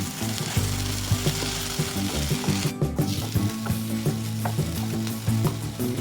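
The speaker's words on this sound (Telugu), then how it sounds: "ఇప్పుడు ఇందులోకి కొత్తిమీర, పుదీనా వేసి మొత్తం మంచిగా కలుపుకొని వేయించుకోవాలి" Coriander and mint leaves stir-fried in a pan for dhaba-style paneer curry, a steady close sizzle with repeated clinks and scrapes of a spoon stirring, a brief quiet break near the middle, no talking.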